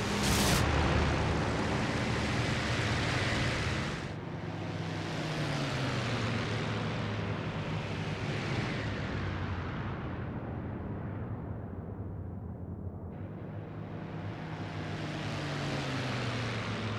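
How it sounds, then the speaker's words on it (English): Engine of a Macchi C.202 fighter in IL-2 Great Battles surging during a dogfight against MiG-3s: a loud, continuous roaring drone that rises and falls in pitch in several swells, with no talk over it. "Surge of the engine there, that's not good."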